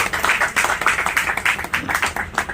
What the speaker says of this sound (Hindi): पहले एक बार सेलिब्रेशन के लिए तालियां बजाइए।